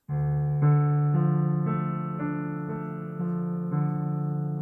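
Sustained piano notes step through a slow melody, each new note entering cleanly about every half second over a low held tone, with no voices.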